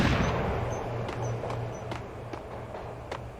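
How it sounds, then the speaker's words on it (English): Repeated gunshots strike a soda machine in Max Payne, sending soda spraying out; sharp cracks land roughly every half second over a steady hiss, with no talk. "You get to buy a soda, and you can shoot it. And soda flies out of it."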